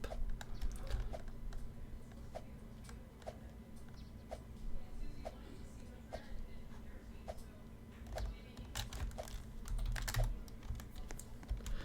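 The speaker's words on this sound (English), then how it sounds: "just a bit of typing going on in the background" Steady typing on a computer keyboard, with rapid key clicks that sometimes cluster into bursts. It sits close over a low, constant background hum.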